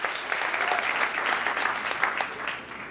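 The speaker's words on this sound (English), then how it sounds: "Let's give group 2 another big round of applause" Audience at a town council meeting applauding a group of students, brisk dense clapping from a crowd throughout, steady and moderately loud.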